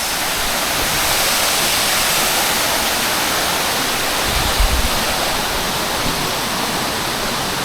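Fairlawn waterfall at Upcot, Sri Lanka, roars as a steady, loud broadband rush of falling water, unbroken for the whole stretch with no voices over it.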